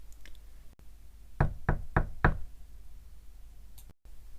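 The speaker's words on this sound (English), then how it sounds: "when another knock came" Four quick, sharp knocks on a door in a quiet room, evenly spaced in a tight burst, fairly close and crisp against faint background hiss.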